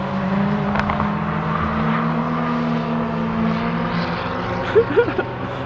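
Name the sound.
car engine passing at Gingerman Raceway track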